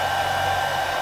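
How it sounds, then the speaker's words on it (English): A hair dryer runs on a Renogy 100Ah Pro Lite lithium battery, giving a steady, close, even blowing whir with no break and no voices. "I can't believe the hairdryer's stayed running."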